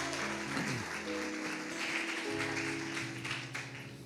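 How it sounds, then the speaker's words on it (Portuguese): Church congregation applauding during a worship service, steady clapping blended with sustained music and tonal background sounds, moderately loud throughout. "Você pode aplaudir a Jesus?"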